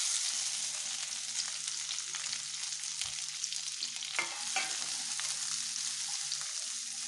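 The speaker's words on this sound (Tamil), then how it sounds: "இதில் இந்த பீன்ஸு, கேபேஜு, இந்த பச்சை மிளகாய் எல்லாம் வணக்கி விட்டுடலாம்." Beans, cabbage and green chillies sauté in a hot pan for vegetable coconut milk rice, giving a steady, close, even sizzle with faint stirring clicks and no talking.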